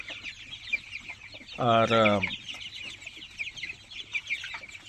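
Young tiger chickens, about 24 days old, give one clear clucking call over a low hum of background noise. A person speaks a single brief word nearby.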